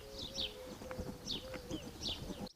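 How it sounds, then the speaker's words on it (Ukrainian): Birds calling at the dried-out former Kakhovka reservoir, a few short chirps and tweets repeating over a faint low background hum, soft and a little distant. "Тепер замість шуму води тут чути щебіт пташок"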